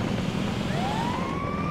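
Ambulance siren in the game GTA 5, a steady rising electronic wail over a constant rumbling background.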